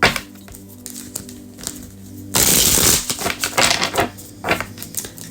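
A tarot deck being shuffled, soft card riffles and taps at first, then a louder burst of rapid flapping and clicking cards, fairly close and with no talk.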